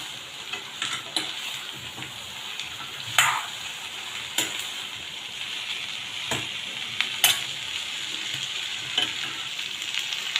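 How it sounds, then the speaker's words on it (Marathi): Okra stir-fry cooking in a pan over medium gas, with a continuous sizzle and repeated scraping and tapping of a spatula, some strokes louder and sharper than others, all close up. "भेंडी अशी हालवर करत राहायचं त्याच्यात चिकटपणा काढून टाकायचं"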